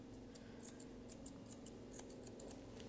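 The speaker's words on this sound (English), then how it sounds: "And just trim the long ends off." Grooming scissors trimming the long tail hair of a Labradoodle, a quiet string of crisp close snips in an uneven rhythm.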